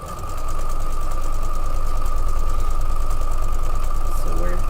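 A sewing machine runs continuously, block-sewing quilt pieces together, with a steady mechanical hum and buzz that starts up quickly and holds even throughout, fairly loud and close.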